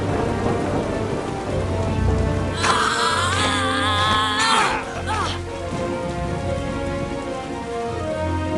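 Steady rainstorm hiss with low rumbling thunder rolls, a storybook app sound effect, with a swell of orchestral music rising briefly in the middle and no talking.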